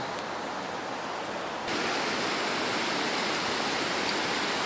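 Khayuep Suea waterfall roaring steadily below a hiking trail, a dense broadband rush of falling water that grows louder partway through, with no voices.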